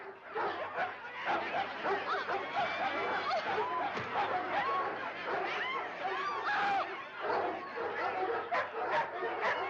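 A dog barks and yips in short bursts at a dog show, heard under steady overlapping talk and commotion from people in the ring.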